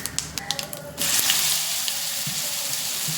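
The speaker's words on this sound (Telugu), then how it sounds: "తాలింపు ఎగిపోయింది మిరపకాయ కరివేపాకు కొంచెం ఇంగువ కొంచెం పసుపు వేసుకుందాం" Light tapping clinks are heard while a tempering of chilli, curry leaves, asafoetida and turmeric cooks. Then chutney hits the hot oil with a sudden loud, sustained sizzle that carries on to the end.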